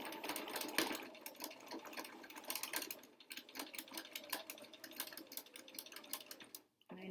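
A sewing machine stitches pleats on an N95 replacement mask, running in a steady fast rattling chatter with brief slowdowns and a short stop near the end.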